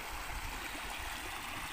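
A stream rushes past rocks, making a steady, broadband wash of flowing water with soft gurgles, close and continuous and free of talk.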